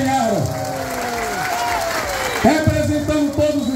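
Applause from the audience at a municipal market inauguration, steady and fairly loud throughout, with a voice talking over it and a sharper burst near the end.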